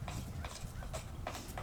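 A horse's hooves clip-clop in a steady, repeated rhythm at close range, a few regular strikes over a low continuous background rumble while a person talks softly nearby.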